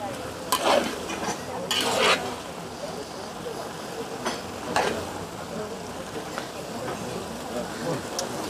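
Bolognese sauce is stirred in a frying pan, a spoon scraping and clinking against the pan in bursts over a steady sizzle, close and fairly loud, with no talking.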